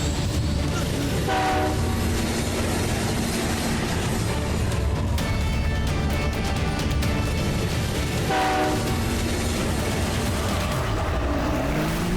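A cartoon train in a desert battle scene rumbles steadily throughout with rhythmic rail clatter and horn-like tones rising over the noise, loud and continuous, with faint voices underneath.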